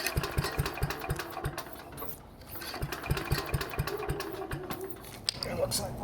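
A 69-year-old Briggs & Stratton 23A-FB engine from the 1950s runs close by with a rapid, uneven, sputtering chug as its carburetor mixture is adjusted, fairly loud and steady throughout.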